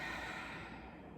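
A deep, slow breath out during a yoga twist with the arms opened to a T, a soft airy exhale that fades gradually over about a second, heard alone and fairly quiet.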